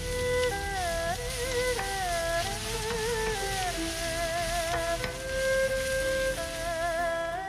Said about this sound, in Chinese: 我们要用到大火，急火爆炒